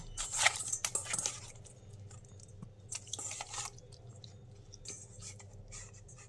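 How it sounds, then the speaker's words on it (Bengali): A quarter lemon squeezed over katla fish and its juice rubbed into the flesh by hand, heard as soft, close, wet squelches and small drips in short bursts, fading to quieter handling. "1/4 ভাগ লেবু কেটে নিয়েছি, এটা আমি রস করে মাছটা ভালো করে মেখে নেব"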